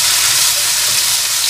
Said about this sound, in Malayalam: ഇനി ഇതിലേക്ക് ഞാൻ ഇട്ട് കൊടുക്കുന്നത് വെച്ചാൽ ഇഞ്ചി വെളുത്തുള്ളി പേസ്റ്റാണ്.